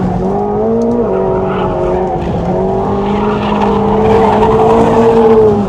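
McLaren 750S and Lamborghini Revuelto supercars racing on a track, a loud, sustained engine roar with rising and shifting tones as the cars change direction through a turn, with brief tire squeal.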